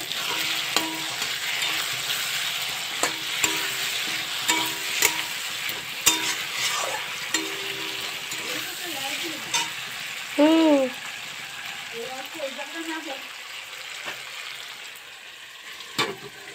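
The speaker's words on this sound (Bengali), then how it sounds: "আর এই দেখো মাংসটা হচ্ছে, এই যে মাংস হচ্ছে" Meat sizzles and fries in a pan on a gas stove, stirred steadily with repeated scraping strokes, the sizzle continuous and close throughout, with a few brief sharper clinks and a warbling tone partway through.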